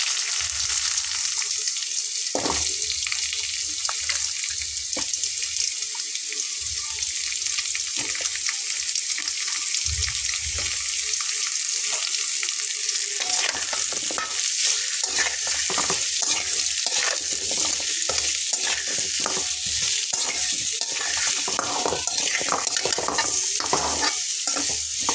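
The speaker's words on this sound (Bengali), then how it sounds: "পেঁপেগুলোকে আমি একটু ভেজে নেব।" Raw papaya pieces frying in a pan with turmeric and salt, a continuous close sizzle with frequent scraping and clattering stirs that grow busier partway through, no talking.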